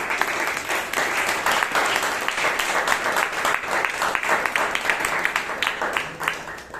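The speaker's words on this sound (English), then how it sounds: "let's give the big round of applause" Sustained applause from a Toastmasters meeting audience in Bangalore, many hands clapping steadily and densely for about seven seconds, fairly close and loud with no talking over it.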